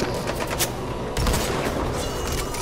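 Gunfire in a shooter video game, with quick bursts of shots and sharp cracks over a constant dense backdrop of game noise, fairly quiet overall and without speech.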